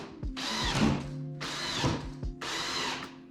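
A drill drives drywall screws through a DeWalt Screw Setter into drywall in three loud bursts of whirring motor, each about a second long, with short pauses between them and no talking.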